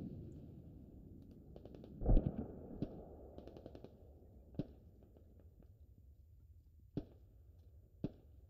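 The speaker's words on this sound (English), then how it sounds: "Mortars." Mortar fire in a video game battle: a handful of sharp blasts land at irregular intervals, the heaviest early on with a deep boom, the rest thinner cracks over a low rumbling background.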